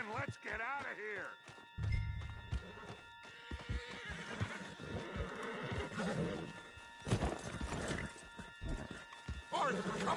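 A horse in Red Dead Redemption 2 gives a loud wavering neigh, then hooves clop and thud in a quick galloping rhythm, with shouting voices and scuffling over the top.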